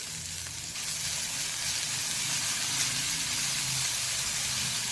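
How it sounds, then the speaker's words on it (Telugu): A loud, steady sizzle erupts after a brief pause as ground green chili and garlic paste hits hot oil, a continuous hiss that stays strong and close to the end. "పచ్చిమిరపకాయలు వెల్లుల్లిపాయ గ్రైండ్ చేసి పెట్టుకున్నాను, అది కూడా వేసేస్తాను."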